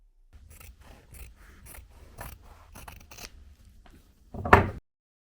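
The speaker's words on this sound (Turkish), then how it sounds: "Katladığımız kısımdan makas ile tekrar kesiyoruz." Steel scissors cut through a folded double layer of linen fabric in a string of soft crisp snips. The cutting ends in one louder, fuller final cut close to the microphone.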